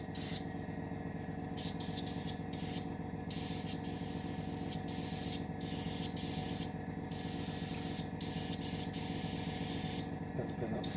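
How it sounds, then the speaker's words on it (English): Aerosol varnish hissing steadily onto a 1/700 scale Revell Bismarck plastic model ship, a continuous close spray broken by brief pauses between bursts, over a faint background hum. "We want varnish over the entire structure"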